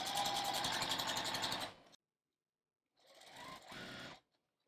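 A home sewing machine stitches quilt strips in two short bursts, a rapid mechanical whirring chatter close by, separated by a second of silence, with no voices.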